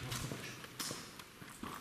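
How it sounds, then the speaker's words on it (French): Footsteps in an abbey, a handful of irregular, hollow-sounding steps on a hard floor, quiet and echoing, with no talking. "Et on a clairement entendu les bruits de pas,"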